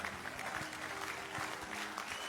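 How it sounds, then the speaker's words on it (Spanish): A church congregation applauds during a Sunday celebration service with continuous, even clapping that fills the room at a moderate distance. "Denle un aplauso al Señor."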